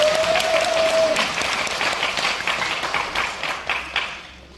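An audience at a National Assembly presentation claps steadily, a dense wash of applause that slowly fades, after a brief tone at the start.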